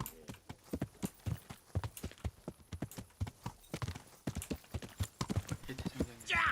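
Horse hooves clip-clop in Kingdom Come: Deliverance, a steady run of distinct thuds close by, with voices speaking over the hoofbeats.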